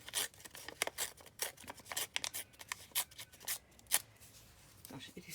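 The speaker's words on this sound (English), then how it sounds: "I'm going to tear that again because I want two torn edges." Paper scraps for a music-themed junk journal torn by hand close up in a series of short, crisp ripping bursts, some quick and some drawn out, with no talk.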